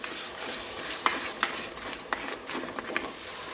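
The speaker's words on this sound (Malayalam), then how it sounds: "ഒന്നുകൂടി നന്നായിട്ട് വഴറ്റിയെടുക്കാം." Tomato masala is sautéed in a pan for banana flower biryani, a steady soft sizzle with scraping spatula strokes and a few sharp clicks against the pan, close up with no voices.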